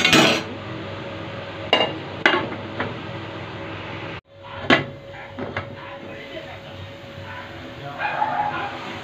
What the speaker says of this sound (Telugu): మూత పెట్టి ఉంచేద్దాం.